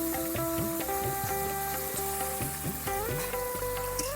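Ginger paste fries in a hot pan of oil for a Telangana-style bagara rice and butter chicken meal, a steady close sizzle under prominent background music.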